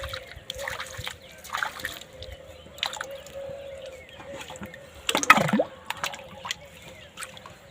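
A laminated tyre is dipped and sloshed in water, giving several separate splashes and trickles at close range, with a louder slosh near the end.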